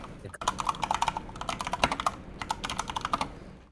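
Rapid typing on a computer keyboard, with close, crisp keystrokes clattering in quick irregular bursts and a brief pause before the final taps.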